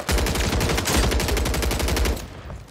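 Rapid automatic gunfire from Call of Duty: Warzone bursts loud and close in a dense, steady rattle for about two seconds before cutting off, with no talking.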